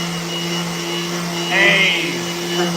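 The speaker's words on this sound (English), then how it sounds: "we gotta vacuum those up for that." A vacuum cleaner drones steadily in a skateboard shop, sucking up excess glue, its pitch rising briefly midway as it pulls in debris.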